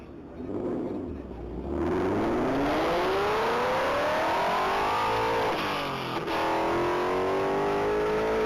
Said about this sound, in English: That's going to be a 22 Ford Mustang Mach 1.